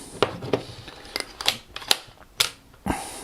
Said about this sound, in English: you can hear the shutter there. It's a spring shutter.